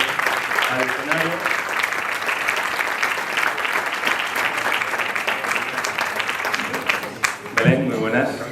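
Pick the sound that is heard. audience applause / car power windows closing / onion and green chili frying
audience applause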